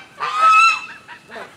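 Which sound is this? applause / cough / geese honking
geese honking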